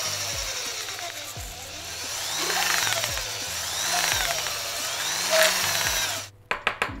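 An electric drill whines close by while repairing a fishing rod grip, its pitch rising and falling as it bites in repeatedly, then cuts off, followed by a few sharp knocks.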